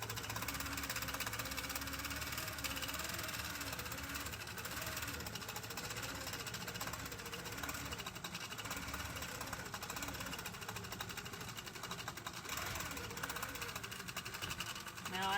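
A longarm quilting machine stitching a pantograph pattern runs continuously with a dense, rapid mechanical chatter and buzzing vibration, steady and close throughout with no breaks.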